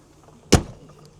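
An access door on a 53 ft gooseneck mobile kitchen trailer, opening onto the back of the smoker, gives one sharp close metallic thunk or clack that quickly fades into quiet room tone.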